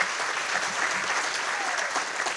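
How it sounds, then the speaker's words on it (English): A room full of guests at the 57th Annual Mayor's Good Friday Breakfast applauds Mayor Bush in a steady, dense wash of clapping that holds at an even level throughout. "Let's give him a round of applause."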